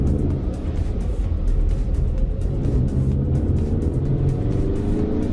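Steady engine roar from inside a moving turbocharged Ford Mustang, a continuous low rumble with a faint whistling turbo hum layered on top.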